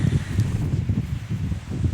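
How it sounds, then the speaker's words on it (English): Steady wind buffets the microphone outdoors, a low continuous rumble with gusty swells and faint rustling throughout. "So windy."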